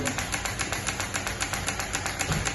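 A small Stirling engine runs steadily with its flywheel turning, giving a faint, quick, regular mechanical ticking and whirring at an even rhythm, with no voices.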